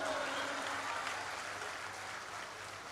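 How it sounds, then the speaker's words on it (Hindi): Audience at a Hindi comedy poetry gathering claps steadily, a broad wash of applause that slowly eases off, with faint voices underneath. "ताली बजाओ, सांस लेना है।"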